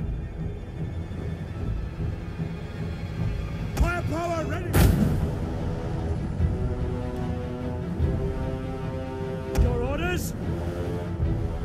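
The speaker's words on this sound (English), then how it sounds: "Artillery ships ready. Fire!" Artillery ships in Rome 2 fire in a naval battle, with a few sharp distant booms over a steady rumbling battle ambience and bursts of voice-like tones.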